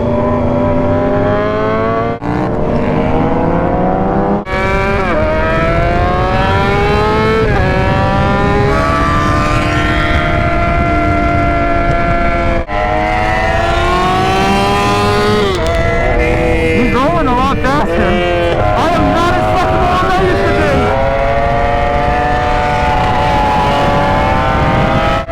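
Motorcycle engine revving loud and close on a race track during a trackday, riding on cold tires, with sustained whining pitch rising and falling through gear changes for the whole stretch, under wind roar.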